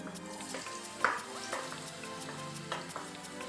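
Chopped onion hits a hot oiled pan and fries with a steady, close sizzle, broken by a few sharp stirring clinks of a utensil against the pan.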